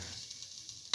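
Fenugreek and fennel seeds sizzle in hot oil, a soft close hiss over a brief moment, ending in a sudden sharper crackle.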